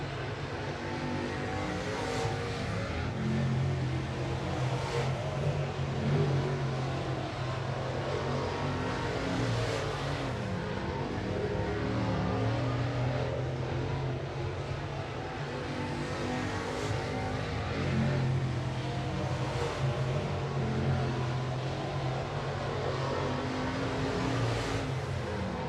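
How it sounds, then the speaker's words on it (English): 604 late model race cars run qualifying hot laps at 411 Motor Speedway. Their engines drone continuously from mid-distance and swell in waves as the cars pass, with no talk over the roar. "that's fifth and final group of hot laps for the hot laps of qualifying for the 604 late models"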